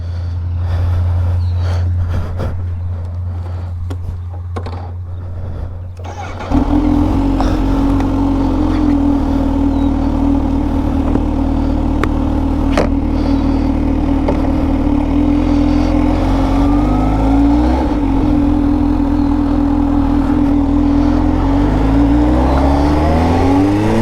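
A 2022 Kawasaki ZH2 SE supercharged motorcycle idles with a low rumble, then starts riding at about six seconds into a loud, steady engine drone that rises and falls gently with throttle changes.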